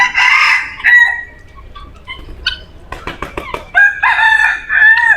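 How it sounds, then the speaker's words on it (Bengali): Junglefowl perched up high at the Dulahazara safari park in Cox's Bazar crow loudly and call, with long drawn crows at the start and end and a run of sharp clucks in between. "বনমোরগ ওখানে উড়াল দিয়ে বসেই ডাকাডাকি করতেছে"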